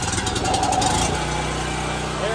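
A small engine fires up after its choke is set and settles into a loud, steady, rough running drone close by, with some clattering at the start.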